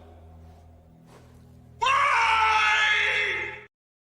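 A person lets out a sustained, loud scream lasting nearly two seconds after a quieter murmur, then cuts off abruptly into silence.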